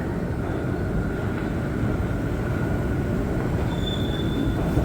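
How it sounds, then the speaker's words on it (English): Montreal metro train on the Orange Line at Côte-Vertu station at night, a steady loud rumble of rolling cars with a high wheel squeal rising near the end. "That's probably the last train right there."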